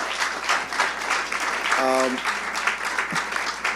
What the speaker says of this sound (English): please, another round of applause for our sponsors and our partners